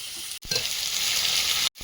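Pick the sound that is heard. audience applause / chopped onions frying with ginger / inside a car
chopped onions frying with ginger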